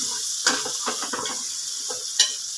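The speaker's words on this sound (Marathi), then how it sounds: "आता आपल्याला बटाटा टाकायचं आहे याच्यामध्ये आणि शेंगदाणे मिक्स करायचं" Potatoes and peanuts are tossed into mixed dal khichdi cooking in a pot, with soft sizzling under a steady hiss and a few scraping stirs and metallic clinks of the spoon.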